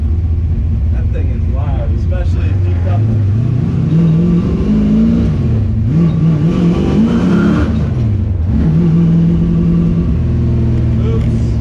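A 1967 Mustang road-race build drives hard while new brake pads and rotors are bedded in, its loud engine note rising and falling through repeated acceleration and slowing, heard up close inside the car.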